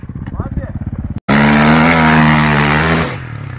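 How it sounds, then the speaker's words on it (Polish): A motorcycle engine chugs in rapid pulses, then revs hard into a loud, close, sustained high whine for nearly two seconds before easing off, while people shout nearby. "Oj, uważaj! Motor!"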